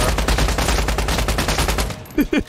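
Rapid automatic gunfire from the video game Once Human, loud and close, a fast even string of shots for about two seconds, then brief voices at the end.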